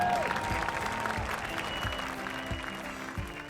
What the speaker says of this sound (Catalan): Heu fet molt bona feina i us mereixeu un gran aplaudiment.